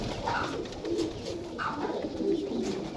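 Several domestic pigeons coo close by, in soft, throaty, rolling calls that repeat in overlapping waves with almost no background noise.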